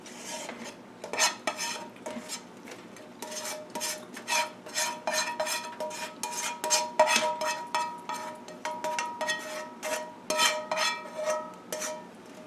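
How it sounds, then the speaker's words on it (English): Noodles being stirred into a garlic parmesan sauce in a pan, with a long run of close, irregular metal-on-pan scrapes and clinks from a utensil, sometimes quick and clustered, sometimes spaced. "So we're gonna add the noodles to our sauce."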